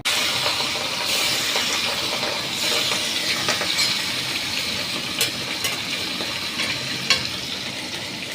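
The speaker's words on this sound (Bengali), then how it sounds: "খুব হালকা সাঁতলে নেব, ইলিশ তো বেশি ভাজা হয় না, জাস্ট সাঁতলানো।" Hilsa fish sizzles as it is lightly fried in a pan, a steady close crackle of hot oil with occasional stirring clinks and pops, no voices.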